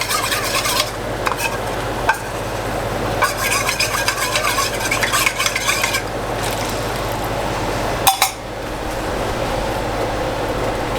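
Cornstarch being stirred into orange chicken sauce in a pan, with a steady scraping, swirling rhythm and repeated utensil strokes running throughout, moderately close.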